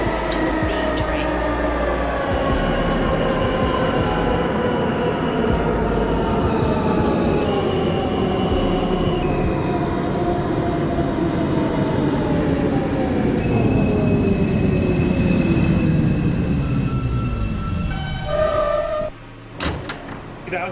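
New York subway Q local train in the OpenBVE simulator, bound for Manhattan from Newkirk Plaza, rolls with a loud steady rumble and drawn-out wheel squeal along a curve, then slows and a door sounds briefly near the end.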